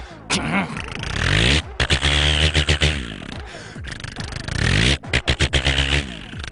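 A man vocally imitates a tractor engine with a loud, sputtering, chugging drone broken by rapid choppy pulses, close and continuous for several seconds.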